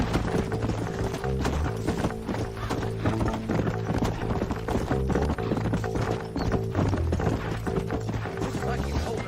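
Horse hooves clip-clop steadily in the Western video game Red Dead Redemption, a rapid galloping rhythm running the whole time under a thick bed of music.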